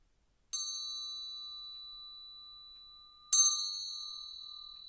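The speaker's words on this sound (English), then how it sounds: "So that was just a bell." A single bright bell strike rings out clearly and decays slowly, then a second strike follows about three seconds later, both ringing alone in silence.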